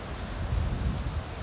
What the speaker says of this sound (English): As you can see, it's a little windy today.